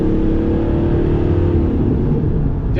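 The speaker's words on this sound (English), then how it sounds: "let's see how a throttle kick feels here" A 2001 Chevrolet Silverado pickup's engine is revved on a throttle kick, a loud close deep roar that holds steady with rising harmonics and then eases off near the end, with no talking.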